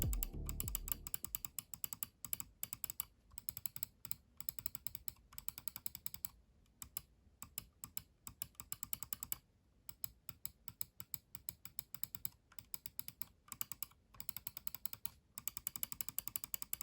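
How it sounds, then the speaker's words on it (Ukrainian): Button clicks from a Hator Pulsar 2 Pro wireless gaming mouse: crisp, short, close-up clicks in rapid irregular runs for the whole stretch, with a few brief pauses and no talking. "Стоять в топових мишках і мають прекрасний чіткий клік."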